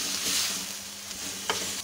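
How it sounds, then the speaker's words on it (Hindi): Chopped tomatoes are stirred into a sizzling cooking mixture for chapshoro, a soft continuous frying hiss with a couple of brief spoon scrapes. "टमाटर भी छोटे छोटे काटे थे, और इनको भी मिक्स कर लेना है"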